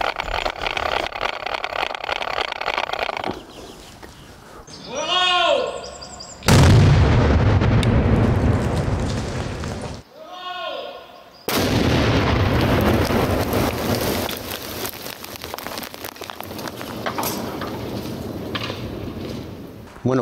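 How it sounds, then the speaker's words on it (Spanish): A Guardia Civil controlled detonation destroys a mortar grenade outdoors with heavy booming blasts and long rumbling roars, separated by quieter stretches with whistling tones, loud and dominating throughout. "se ha destruido completamente la granada de mortero que teníamos"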